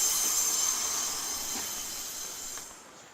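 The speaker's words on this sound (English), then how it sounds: "train to leave today is a 143 pacer, and this one is number 608" A Class 143 Pacer diesel train pulls out of Cardiff Central station, a steady broad rumble and hiss that fades as it moves away, with no voices.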